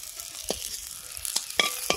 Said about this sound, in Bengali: লাস্ট রাউন্ড মাছ ভাজা